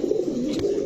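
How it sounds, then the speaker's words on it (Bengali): A khuma pigeon coos at a pigeon market, one soft, low throaty coo that is close and steady and lasts under a second, with no talk. "খুমা তো ভাই অন্যরকম কথা কয় ভাই"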